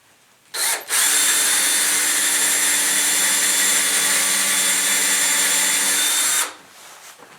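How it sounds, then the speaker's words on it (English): A power drill bores a hole into a wood burl for woodturning, starting abruptly and running at a steady high-pitched whine for about six seconds before cutting off, close and alone. "I'm just going to drill a hole so that this will fit right in the middle here."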